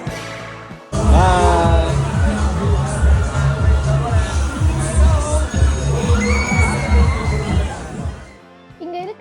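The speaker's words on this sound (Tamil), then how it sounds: "இங்க இருக்கிறப்ப பக்கத்துல ஒரே அலறல் சத்தமா கேட்டுச்சு." Crowd screams and excited shouting fill a fast-spinning fairground ride at a London Hyde Park winter funfair, loud and continuous with thumping music and bangs underneath, ending abruptly.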